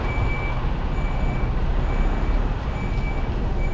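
A delivery lorry reverses with its alarm sounding steady, evenly spaced high beeps over a loud rumbling diesel engine idle, close and continuous.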